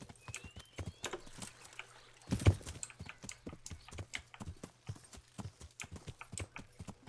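Horse hooves clip-clop in a steady galloping rhythm across uneven ground in the medieval video game Kingdom Come: Deliverance, fairly close, with one heavier thump midway and a faint continuous hum underneath.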